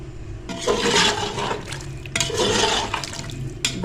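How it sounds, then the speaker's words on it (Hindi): Water is poured from a glass over half a kilo of mutton in a pressure cooker for kachnar gosht, two steady splashing pours, each lasting about a second and a half. "अब हम इसमें डाल देंगे पानी और मैं आधा किलो गोश्त में डालूँगी 2 गिलास पानी"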